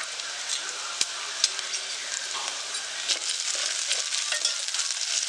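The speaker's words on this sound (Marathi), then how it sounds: "आता हे कांदा आपण थोडा छान असं भाजून घेऊया, व्यवस्थित शिजवून घेऊया." Chopped onion in a spice tempering sizzles in a pan while being stirred, with close, steady frying hiss and scattered sharp ticks of the spoon scraping the pan. No one speaks.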